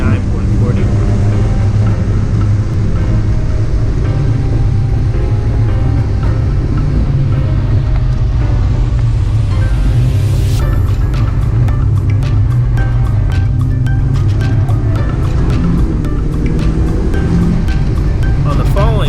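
A boosted R18-engined car laps Willow Springs at speed in a touge competition. The engine drones loudly and continuously, with its pitch shifting partway through, while a voice narrates over it.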